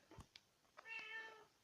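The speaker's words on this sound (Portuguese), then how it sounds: "O gatinho tudo novinho." A newborn kitten gives a few tiny, high-pitched meows, soft and close, with short chirps leading into one longer mewing cry in a quiet room.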